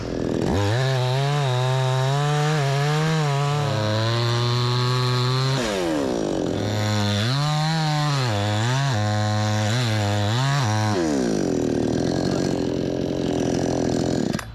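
Budget gas chainsaw, one with a fuel leak, bucking firewood, its engine roaring loud and close with the pitch dropping and rising as it bogs through cuts and revs between them.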